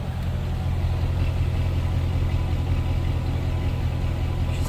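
A Cat Eye Chevy engine that was recently a non-runner idles steadily after being revived, a close, even low rumble that holds for the full few seconds with no voices.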